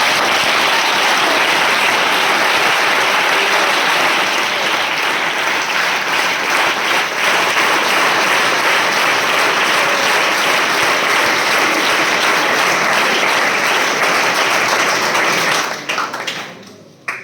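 Sustained loud applause from a large audience at an achievers' meeting, dense steady clapping that carries on for about fifteen seconds before breaking off abruptly near the end.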